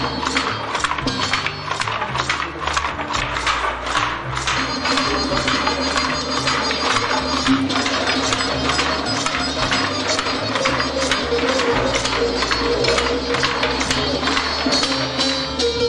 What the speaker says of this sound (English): the thread that gives the design is attached to the loom, and the weaver shuttle begins to pass from one side to the other